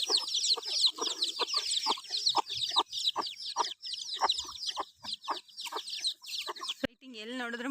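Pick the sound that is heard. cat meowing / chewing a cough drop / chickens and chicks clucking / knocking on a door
chickens and chicks clucking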